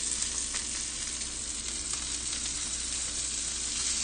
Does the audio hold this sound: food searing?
yes